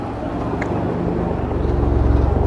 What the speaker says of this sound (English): Grandad at top revving his big engine up